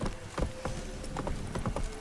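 Hooves of the horse Roach galloping in the Witcher 3 video game, a quick rhythmic clip-clop of several hoof strikes, close and fairly loud with faint background music.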